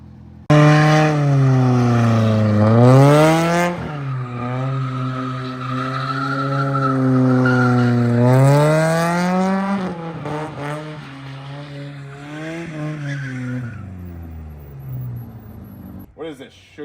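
Tires squeal loudly on a fully stripped Volvo 740 drift car as it slides in long, rising and falling skids, with the engine revving underneath, all close and continuous.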